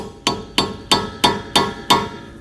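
A big mallet striking a wood chisel against a wheel bearing hub on a Toyota Land Cruiser front end, six evenly spaced, sharp knocks ringing out close and loud, with no talking.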